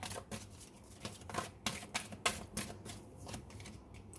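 Tarot cards being shuffled and drawn, producing a series of crisp riffling and slapping bursts at an uneven rhythm, close and fairly quiet with no talk.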